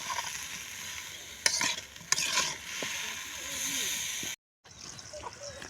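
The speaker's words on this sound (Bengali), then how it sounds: "একটু লবণ, একটু হলুদের গুঁড়া, একটু মরিচের গুঁড়া দিয়ে আমি কপিটা আগে ভেজে নেব।" Cauliflower frying in hot oil with salt, turmeric and chili powder, a steady broadband sizzle with a few sharp stirring clicks, briefly cutting out before resuming.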